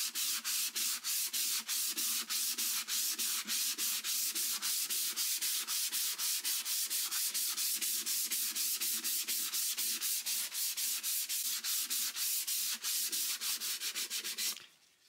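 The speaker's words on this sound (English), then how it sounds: "I'm going to sand it with the grain, again, paying attention down into the concave spots" An archtop guitar body is sanded by hand along the wood grain, with a rapid, regular back-and-forth rasp that repeats steadily and close up before stopping at the end, with no talk.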